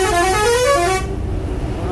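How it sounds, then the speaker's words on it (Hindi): A loud vehicle horn blares continuously for about a second, then cuts off, leaving road noise and engine rumble. "हॉर्न कितना तेज है गाड़ी में।"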